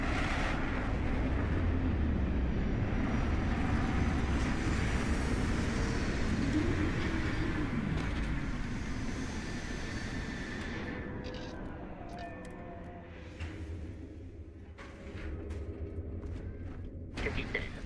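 A spaceship touches down in the game Starfield, a steady heavy rumbling roar of engines that slowly fades after about ten seconds, followed by quieter mechanical clanks and hisses.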